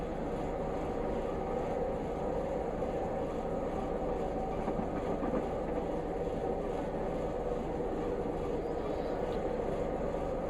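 A Class 101 diesel multiple unit in Train Simulator Classic, on the Glasgow Queen Street to Edinburgh line, gives off a continuous loud rumbling rattle and engine drone at a steady level throughout.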